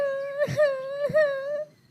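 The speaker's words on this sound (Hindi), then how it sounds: "वो छोटी कौवी ऐसे रो रही थी।" A young crow cries in a Hindi village cartoon, giving a long, high, wavering wail broken by two short sobbing catches, loud and close with no talk over it.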